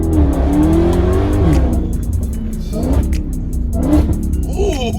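A 2019 Dodge Charger Hellcat, heard from inside on hard acceleration in first and second gear, roars loudly as the engine revs climb, drop at each shift and climb again, with faint tire noise and a voice briefly underneath.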